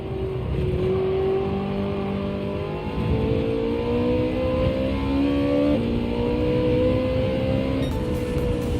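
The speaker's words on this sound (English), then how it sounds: "Driving the 360 Modena." A Ferrari 360 Modena engine in Gran Turismo 7, revving steadily through rising gear pulls with brief shift dips, loud and continuous with no talking.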